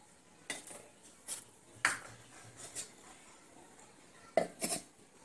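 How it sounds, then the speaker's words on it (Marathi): Flax seeds tipped into a mixer jar for chutney give a few sharp clinks and rattles of metal and seeds against the jar, spaced apart over a quiet room background. "तर आपण हे जवस मिक्सरच्या भांड्यामध्ये घालून घेऊया।"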